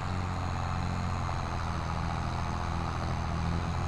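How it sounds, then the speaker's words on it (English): A tractor engine runs loudly and steadily on a homestead, a continuous close, heavy low rumble with no pauses. "Man, this tractor's awesome, but God, it's loud."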